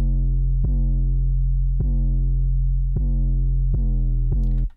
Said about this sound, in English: With the EQ, the 808 sounds like this.